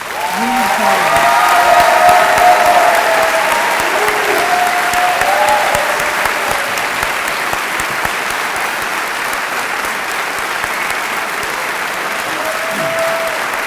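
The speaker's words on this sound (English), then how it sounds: "Let's applaud now for Yun Fowler." A room full of people claps steadily at a medical school white coat ceremony, loudest early on and slowly fading, with a few voices calling out over the applause.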